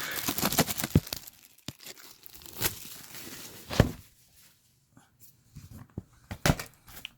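Close crinkling and tearing of the plastic wrap on a Monster Hunter World collector's edition art book, coming in short uneven bursts with brief quiet gaps between rips.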